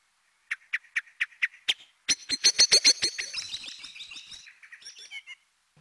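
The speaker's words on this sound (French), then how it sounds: "Les oiseaux commencent à se réveiller. Il est 6 heures. Les merles s'activent." Blackbirds sing at dawn around 6 a.m. in the Vallée du Goëlo at Ploufragan, Brittany: a clear series of evenly spaced chirps, then a louder burst of rapid, rich song trills fading out, with no talking.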